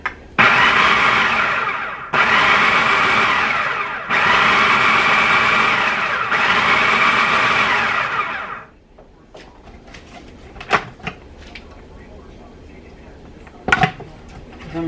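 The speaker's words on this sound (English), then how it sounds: "it needs to be pureed more" A blender purees pesto made with sunflower seeds, roaring loudly in four roughly two-second pulses with brief gaps, then stopping and leaving a quieter stretch of clinks and handling noises.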